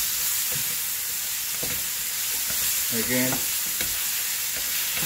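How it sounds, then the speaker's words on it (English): Fish-fry spice paste sizzles steadily in a hot pan, a constant frying hiss broken by brief scraping stirs, with one short spoken word partway through. "Everything being sauteed together."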